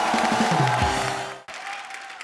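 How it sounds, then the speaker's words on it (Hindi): Loud studio-audience applause on a comedy talk show, a brief burst that fades out over about a second and a half, followed by quieter room sound. "जोरदार तालियां हो जाए"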